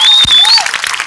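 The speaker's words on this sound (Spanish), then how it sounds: "regálale un fuerte aplauso a nuestra voluntaria" A theater audience in Madrid gives a loud, dense round of applause for a volunteer during a live stage show, heard as a crowd clapping with a bright whistle rising over the top.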